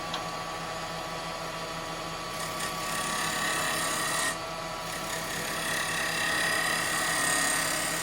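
A woodturning gouge cutting a spinning yew bowl on a lathe, giving a continuous rough scraping and rasping hiss with a low motor hum beneath it. It swells slightly as the cut progresses, with no talking.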